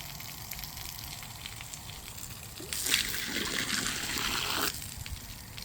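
Water trickles and splashes in a pair of pig wallow water holes on a small homestead raising Kunekune pigs, a soft steady outdoor flow that grows into a brighter, louder gush through the middle before settling back.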